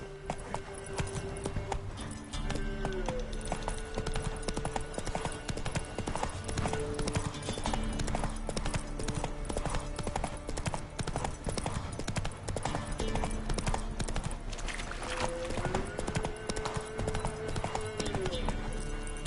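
Roach, the horse in The Witcher 3, gallops with a fast, steady clip-clop of hooves that runs almost the whole time, with game music and a few short spoken calls over it.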